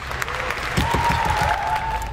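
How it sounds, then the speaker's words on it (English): A family gives a quick round of applause inside a car during a car picnic, the clapping soft and fairly close, mixed with a steady tone and background noise. "Everyone, give him a round of applause."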